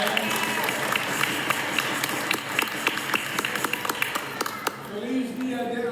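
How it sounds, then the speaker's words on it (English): Audience applause in a church fills the space with dense, steady clapping from a crowd, holding at a loud level throughout and thinning slightly near the end as a voice begins to come through. "Let's give her another round of applause."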